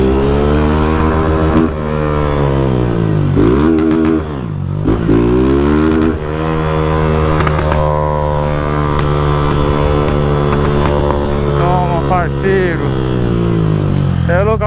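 A Honda Titan 160 motorcycle without mirrors revs hard on a street, its loud close engine rising and falling in repeated throttle pulls and bouncing off the rev limiter in first gear.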